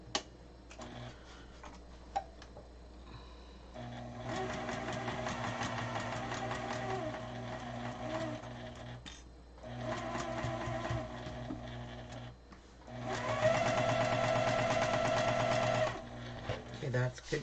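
A sewing machine stitches a quarter-inch seam on a quilt block for coasters in three separate runs of rapid mechanical whirring and ticking, separated by short quiet pauses.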